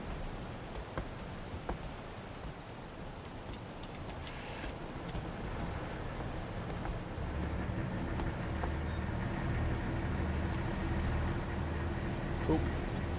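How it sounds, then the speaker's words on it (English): Diesel engines of a surfaced submarine in the Wolfpack video game run as a steady low drone with faint ticking, growing a little louder across the stretch while soft talk sits underneath. "Let's go to diesel engines"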